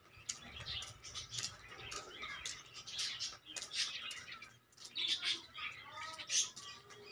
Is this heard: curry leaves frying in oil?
no